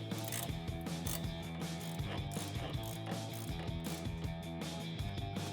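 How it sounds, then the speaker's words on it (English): A 16mm wrench ratchets rapidly in a continuous clicking rhythm while tightening a nut on a 2012-2018 RAM 1500 during a Rough Country 3-inch suspension lift install, close and clear with no talk. "tighten it down with our 16mm wrench"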